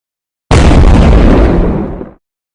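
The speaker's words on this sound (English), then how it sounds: "The T-35 exploded" A Soviet T-35 heavy tank blows apart after an armor-piercing hit from a KwK 37 L/24 gun, one sudden loud close explosion with a long roaring burst of debris that tapers off over about a second and a half.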